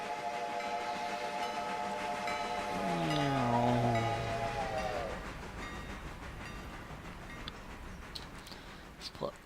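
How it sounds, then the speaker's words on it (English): A long multi-tone train whistle blows as a locomotive approaches a crossing in the Railroader railway simulation game, the chord bending downward as it passes, over a steady rumble of rolling wagons. "hey, there's a train coming through."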